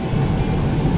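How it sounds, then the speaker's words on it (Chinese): Steady low roar inside an airplane cabin as the plane lands, a continuous rumble of engines and airframe with no talking. "现在飞机来降落了"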